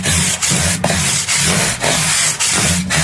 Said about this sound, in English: I'm just piling away through on these papers, on these cloths, getting higher and higher grit.